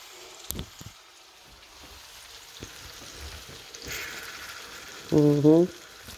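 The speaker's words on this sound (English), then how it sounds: "That's how you fry apples." Apples frying in margarine and a little vegetable oil in a pan over medium heat, a soft steady sizzle with a few light clicks, ending in a short tonal beep.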